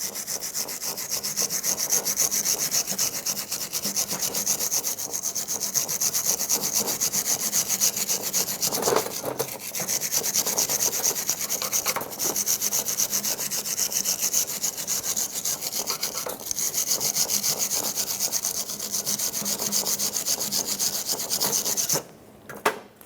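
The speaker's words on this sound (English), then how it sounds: "clean off the area with a wire brush or a sanding disc, whatever you have, or even a file" Rust is scrubbed off a brake caliper bracket on a 2000-2005 Ford Excursion with a wire brush or sanding disc, a continuous close, harsh rasping scrape that runs almost unbroken, with a few slightly louder strokes, and no talking.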